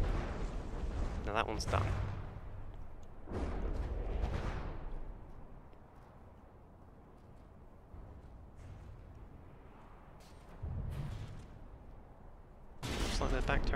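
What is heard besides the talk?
battleship railgun and turret fire in the video game From The Depths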